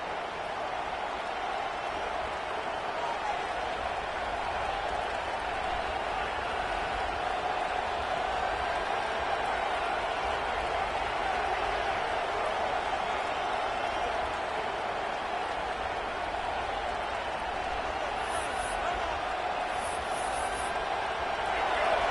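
Stadium crowd in the NCAA 25 college football video game, a steady broad roar of cheering fans through the whole stretch, under a commentator's voice.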